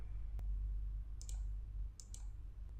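A computer mouse clicking in Corel Draw: a few small, crisp clicks, one single and then two quick pairs, faint over a low steady hum.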